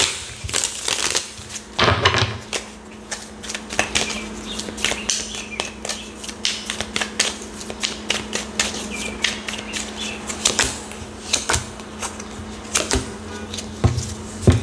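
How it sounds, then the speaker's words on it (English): Playing cards shuffled during a tarot-style reading, a run of quick riffling clicks and soft flutters close by, with a steady low hum running underneath. "Let me shuffle."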